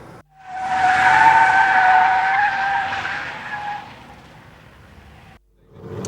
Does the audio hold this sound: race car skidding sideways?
yes